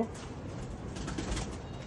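A Juma female pigeon coos softly at close range, its low murmur barely rising above a faint background hiss.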